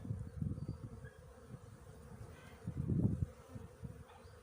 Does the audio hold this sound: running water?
no